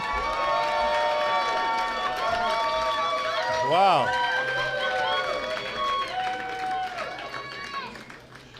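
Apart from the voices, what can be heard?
crowd cheering at an awards ceremony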